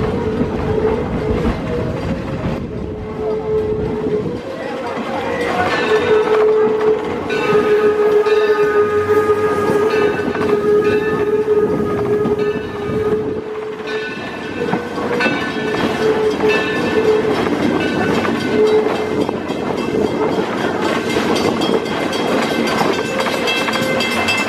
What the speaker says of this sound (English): let's listen to the North American signal for Here Comes the Train